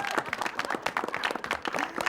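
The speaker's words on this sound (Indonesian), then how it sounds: "ada tepuk tangan untuk kedua regu kita pada siang hari ini" Studio audience clapping for the two competing teams on an Indonesian television quiz show, a moderate burst of scattered hand claps with a host's voice talking over it.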